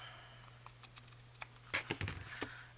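Scissors trim paper for a handmade tri-fold envelope, giving a few quiet snips and rustles over a low background hum, with a brief cluster of sharper cuts near the end.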